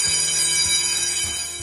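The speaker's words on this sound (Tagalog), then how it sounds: "Umalingaw-ngaw sa loob ng hotel na ito sa General Santos City ang tunog ng emergency alarm pasado 3:30 ng madaling araw kanina" An emergency alarm rings continuously inside a hotel in General Santos City during a pre-dawn earthquake, a steady, loud bell-like tone with a few low thumps beneath it.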